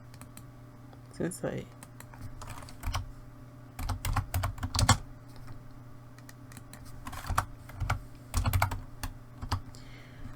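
A yarn name is typed on a computer keyboard in quick clustered bursts of close key clicks with pauses between, while a person talks briefly.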